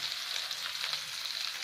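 Asafoetida sizzles in hot oil in a pan, a steady even crackling hiss with faint pops, fairly quiet and close, no voices.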